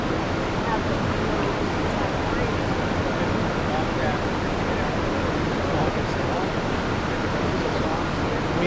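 Water pours steadily over the weirs of a wastewater treatment plant, a dense, continuous rushing wash that stays even and loud throughout with no pauses.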